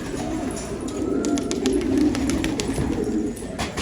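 Pigeons coo in a loft, a soft, continuous cooing murmur close by, with light shuffling and rustling noises mixed in.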